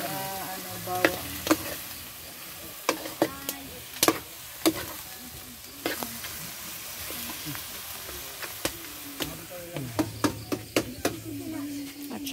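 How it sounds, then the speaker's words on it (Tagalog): Halang-halang sautéing with garlic in a pan, a steady sizzle and frying hiss broken by repeated sharp clacks of a utensil stirring and scraping, with faint background voices. "Binisa na yan sa mga bawang."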